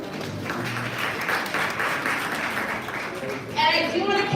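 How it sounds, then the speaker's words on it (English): An awards gala audience at the Forbes Afro Future Summit gives steady, full-room applause that holds for several seconds, with voices rising over the clapping near the end. "A round of applause for all of you for joining us as well."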